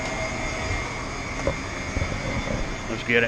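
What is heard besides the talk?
car engine revving on a Clayton chassis dyno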